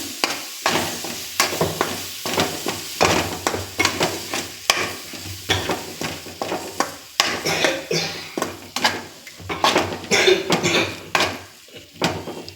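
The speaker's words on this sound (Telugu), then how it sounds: "ఇప్పుడు ఈ పాలకూర పేస్ట్ మనం ఈ మసాలాలో యాడ్ చేద్దాం పేస్ట్ యాడ్ చేశానండి ఇంకా వీటిని మనం కలిపేసుకుందాం" Spinach paste is stirred into masala in a pan for palak paneer curry, with a spoon scraping and knocking against the pan in repeated close strokes over a soft sizzle.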